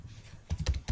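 A few quick clicks on a computer keyboard while typing code, soft at first, then a short burst of sharper keystrokes close by.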